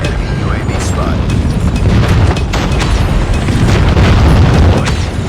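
Airstrike explosions in Call of Duty Mobile, a heavy, continuous barrage of booming blasts and rumble, loud and close, with overlapping impacts and faint in-game voice callouts underneath.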